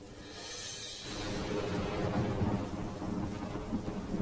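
A thunderstorm with heavy rain: a loud rumble of thunder swells in the first second, then a dense, steady downpour roars on, close and continuous, with no voices.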